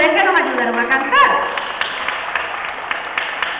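An audience claps at a children's Three Kings Day event in Río Jueyes, Coamo, with light scattered applause running steadily under a voice as she speaks over the crowd.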